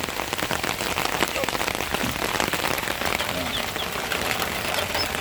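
Rain falls steadily on a roof over a chicken coop, a dense, continuous patter of drops that stays loud and even throughout, with no pause.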